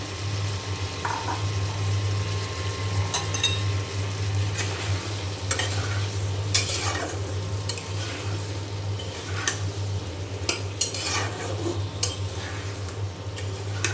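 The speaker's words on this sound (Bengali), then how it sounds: "এখন চিংড়ি মাছের সাথে খুব ভালো করে আমি পেঁপে কষিয়ে নেব" Prawns and chunky papaya pieces sautéing in a pan for a Bengali prawn curry, with a steady sizzle under repeated stirring scrapes and light utensil ticks against a low background hum.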